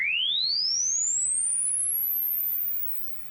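A pure sine tone from a tone generator glides smoothly upward from deep bass to a very high pitch, loud and alone, then stops and leaves near silence.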